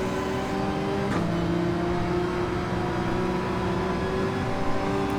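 A Nissan GT-R race car in Gran Turismo 7 gives a steady, sustained engine drone holding an even pitch, with a brief shift partway through and no voices.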